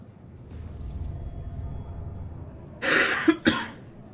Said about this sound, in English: I just got done eating not too long ago. So, got me coughing quite a bit.